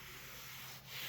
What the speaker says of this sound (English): And I'm gonna SOS pad this